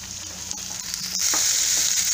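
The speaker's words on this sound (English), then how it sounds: "Now I'm going to be adding the cooked bitter melon into this. Give it one stir." Cooked bitter melon is tipped into a hot frying pan and stirred once, a sudden burst of sizzling with a couple of scraping clicks, growing louder and steadier toward the end, no voices.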